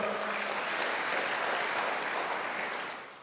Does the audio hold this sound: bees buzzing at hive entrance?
no